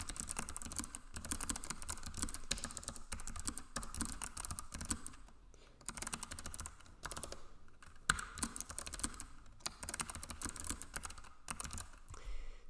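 Continuous computer keyboard typing while code is written in Java, a busy run of clicky keystrokes with a few short pauses, close and steady with no talking.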